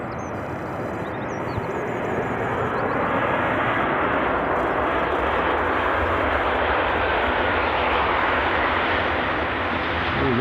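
A loud aircraft engine roars continuously at Edinburgh International Airport, a broad steady rumble that swells slightly, with faint bird chirps briefly audible early on.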